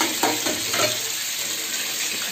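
Fish fries in a pan on a stove, a steady close sizzle broken by a few stirring scrapes early on, with no talk over it.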